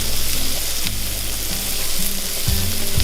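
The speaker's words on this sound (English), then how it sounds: "I'm gonna saute the onions in here while the noodles are cooking" Onions sauteing in melted butter in a small skillet give a steady, close sizzle and crackle with a low hum of the stove under it, loud and continuous.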